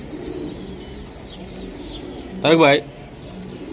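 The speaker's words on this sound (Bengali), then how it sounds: "দেখেন কালো গলা কবুতর, কবুতরের কোয়ালিটি দেখুন" A black-necked high-flyer pigeon gives one clear, warbling coo that rises above a low background murmur, close by, while someone speaks briefly.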